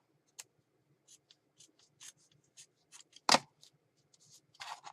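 Scissors snipping away excess paper in a handmade journal, a run of quiet separate crisp cuts and rustles with one louder snip partway through, close and isolated without speech.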